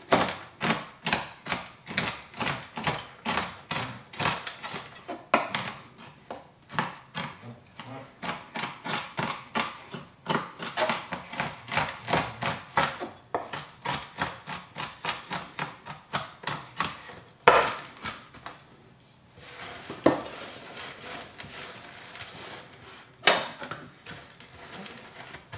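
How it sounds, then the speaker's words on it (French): A knife chopping almonds into pieces on a board, a long run of quick, crisp rhythmic taps close up, steady for most of the stretch with a few louder knocks and brief pauses near the end. "Et donc on va venir couper tout ceci en morceaux."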